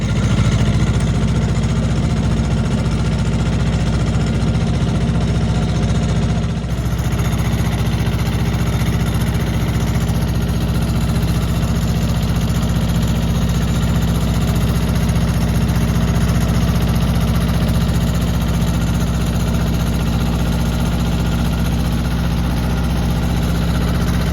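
A tractor engine idles steadily throughout on a homestead, a loud, constant low rumble with a slight shift partway through, no voices.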